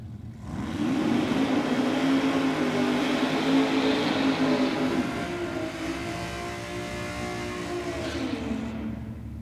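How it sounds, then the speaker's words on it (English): A drag racing car does a short burnout at Sydney Dragway, with a loud, steady engine roar that holds high and then eases slightly toward the end. "tough little burnout there from the Woody."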